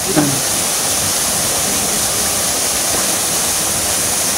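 Mahogany Falls in Trece Martires, Cavite, a small waterfall, pours down as a steady, loud broadband rush of water that fills the whole scene. A brief faint voice is heard near the start.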